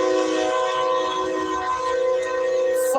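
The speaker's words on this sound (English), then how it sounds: "Fucking train." A train passes close by, its horn blaring a loud, sustained chord-like tone over the deep rumble of the cars throughout.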